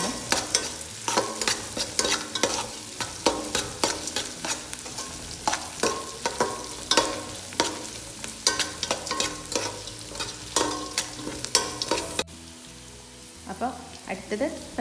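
Mixture being stirred and fried in a pan over a low flame, with steady scraping strokes and a soft continuous sizzle, fairly close, the stirring easing off near the end.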